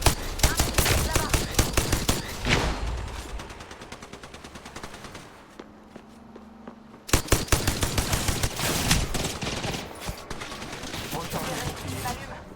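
Bursts of automatic gunfire in Apex Legends, loud rapid volleys of cracking shots in the first seconds, a quieter lull with a low hum, then heavy sustained fire returning near the end.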